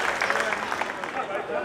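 Audience applause at a poetry gathering honoring poet Aqil Ahmed Aaqil, a dense steady wash of clapping at moderate loudness, with some voice mixed in beneath.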